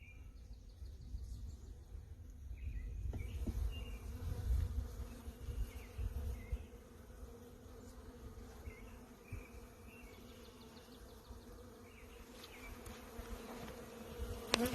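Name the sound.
honey bees buzzing at an open hive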